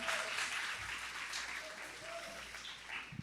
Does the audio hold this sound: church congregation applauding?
yes